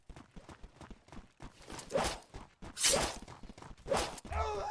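Horse hooves in the video game Blood & Iron, set in farmland: a few clattering clip-clop bursts come close and fairly loud in quick succession, mixed with swooshing game noise, with no talk over them.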